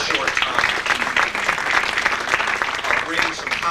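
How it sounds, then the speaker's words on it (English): An audience applauds staff at a credit union gathering, a short burst of moderately loud clapping that rises and sways, with some voices mixed in underneath. "I want to give a round of applause to them."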